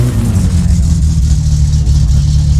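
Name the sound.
SR20-swapped Nissan Almera engine revving in My Summer Car video game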